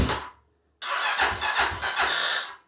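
A motorcycle with a weak, undercharged battery is started: a brief cranking burst fades to silence, then the engine catches and runs with a rough, pulsing, fairly loud idle and a slight rise toward the end.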